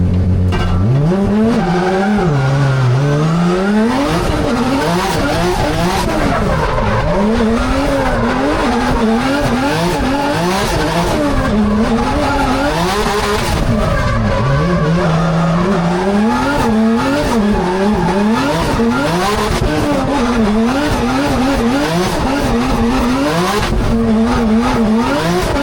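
A Pro Formula Drift car laps a track with its engine revving hard and rising and falling through gears while the tires squeal and skid almost continuously, loud and close throughout.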